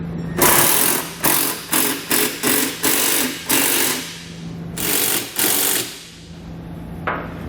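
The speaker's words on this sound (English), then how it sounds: "we can come back with a 19mm socket and start snugging up the large bolts that are going into the board" Large bolts on a Westin E-Series round nerf bar install are snugged up with a 19mm socket, giving a close, repeated run of loud ratcheting bursts in quick rhythm with short pauses between.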